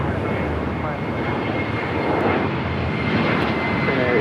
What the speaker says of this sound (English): It's Bombardier Global 7500.